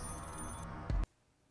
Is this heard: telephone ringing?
yes